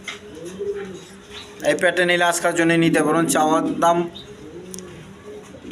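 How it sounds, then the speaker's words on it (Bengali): Army pigeons coo at a farm, soft repeated coos running in the background, while someone talks over them for much of the stretch. "আর্মি কবুতর দেখেন, কোয়ালিটি সম্পন্ন কবুতর, আর্মি কবুতর"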